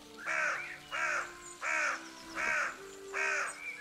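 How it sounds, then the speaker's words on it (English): Crows cawing in the video game Pentiment, five loud harsh caws spaced evenly about once a second, close and clear over a faint steady background. "Fucking birds."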